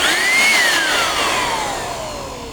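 An electric blower used as a vacuum cleaner runs steadily with a loud whooshing roar and a high whine that rises then slowly falls in pitch as it spins down.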